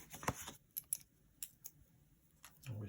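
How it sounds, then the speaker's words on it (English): Scissors trim paper while decorating a postcard at a craft table, giving a few faint, scattered snips and clicks in an otherwise quiet room. "I need to put my scissors back in the same place"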